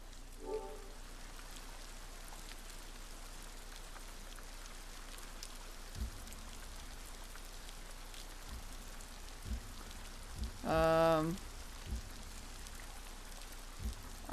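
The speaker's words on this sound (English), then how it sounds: "The rain, yeah. The rain." Steady rain falling in the video game Ghost of Tsushima, a constant soft hiss of drops on surfaces across the whole stretch, with a few faint knocks and a brief tonal game cue partway through; no talk.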